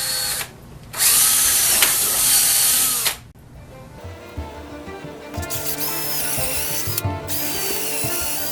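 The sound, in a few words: power drill drilling into wood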